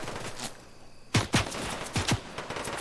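NPC gunfire in Fortnite: a quick cluster of sharp shots, two close together then another pair, cracking loudly after a quieter moment.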